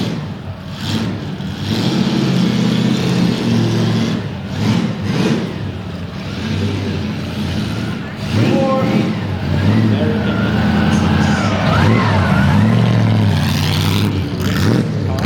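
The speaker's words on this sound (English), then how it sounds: "Listen to that 8-cylinder engine." A 1930s Alfa Romeo straight-eight racing car engine roars and revs, its pitch rising and falling through gear changes, loud and close with a throaty, continuous drone.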